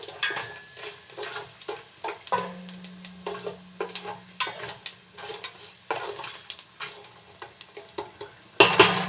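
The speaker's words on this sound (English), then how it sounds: "put those mustard seeds in there. Those are going to start crackling, popping." Mustard seeds and spices crackle and pop in hot tempering oil for a Burmese-style coconut milk lentil curry, a dense run of sharp close pops and snaps over a steady sizzle, with a brief hum partway through and a louder clatter at the end.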